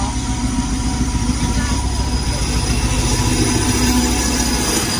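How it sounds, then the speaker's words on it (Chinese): A long freight train rolls past a railway crossing, its deep, continuous rumble and rattling wagons steady and close. Faint voices sit beneath the din. "是一辆货车。"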